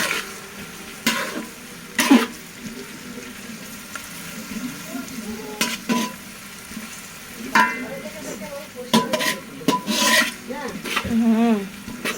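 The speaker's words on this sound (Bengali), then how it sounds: "তো আমি এবার পেঁয়াজটা নাড়াবো।" Onions frying in a pan for homemade chicken biryani, stirred with a utensil that gives repeated close scraping strokes over a steady sizzle, with a few brief voice sounds between the strokes.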